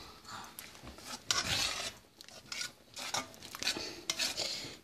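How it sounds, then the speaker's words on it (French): Haitian bread soup being stirred and mashed in a pot: a spoon scrapes and knocks against the pot in quick, uneven strokes, close and fairly clear, with no voices. "on écrase comme ça de temps en temps en remuant"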